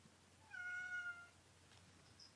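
A single cat meows once indoors in a room, a clear, drawn-out rising-then-falling call of about a second, fairly close against a quiet background.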